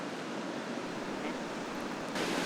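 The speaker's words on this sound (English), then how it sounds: "It's a giant waterfall." Dettifoss waterfall in northern Iceland gives off a continuous, even roar of falling water, a dense rushing hiss with no breaks that rises slightly near the end.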